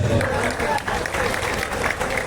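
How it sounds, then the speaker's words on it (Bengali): A crowd applauds the Bengal team that won the Santosh Trophy at a felicitation ceremony. The clapping is steady, dense and continuous for a couple of seconds, with voices mixed into it. "হাততালি যেন না থামে"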